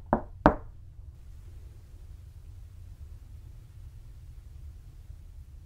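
Two distinct knocks on a wall, the second louder, sound at the very beginning during a ghost hunt, then only a steady low rumble of background noise remains.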